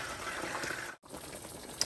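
Laing simmers in a pot while being stirred slowly, a soft bubbling, hissing wash of liquid that briefly cuts out midway, close and steady with no talking.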